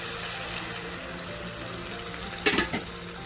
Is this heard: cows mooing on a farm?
no